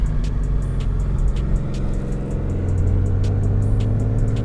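Turbocharged Ecotec-engined Holden Commodore at a roll racing event in Brisbane on cold tarmac, a loud, sustained engine drone with a steady low rumble that holds and builds slightly, no talking over it.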